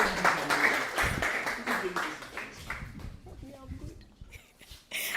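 Audience applause for Professor Kofi Sapong Edumeni at a University of Ghana UI/UX hackathon event, dense clapping that fades after a few seconds while a voice talks over it.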